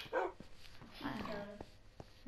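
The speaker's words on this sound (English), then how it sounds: "This is my dog" A tamed wolf dog in Minecraft gives short whimpering and yipping cries, close and fairly quiet, while a person talks over the game.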